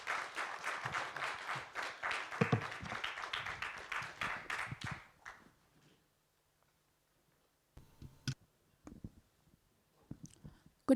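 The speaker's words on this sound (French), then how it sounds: "Sous vos applaudissements, s'il vous plaît." Audience applause at a pitch session event, dense steady clapping for about five seconds that fades out, followed by silence and a few faint clicks and handling noises.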